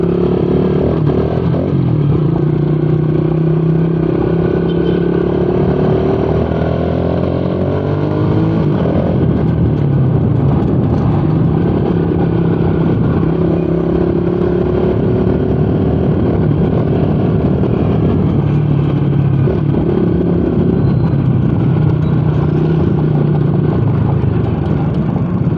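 A Moto Push 150 motorcycle ridden at night, its engine droning loud and steady with rising and falling revs and a rough mechanical clatter, heard up close throughout with no talking.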